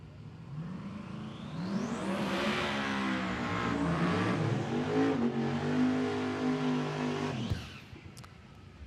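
Small tire drag race cars rev at Ozark Raceway Park. A loud engine climbs in pitch and holds a steady, buzzing roar for several seconds, then cuts off abruptly.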